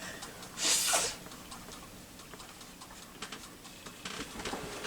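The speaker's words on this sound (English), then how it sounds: "Just get rid of the sniffles here." A single sharp, breathy nasal burst like a sniff or snort near the microphone, followed by quiet rustling and faint clicks.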